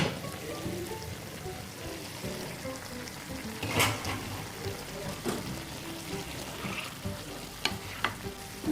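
Washed chicken going into browned onions for a village-style Rayalaseema chicken curry, a low continuous sizzle with stirring scrapes and a few sharp clinks of a utensil against the pot.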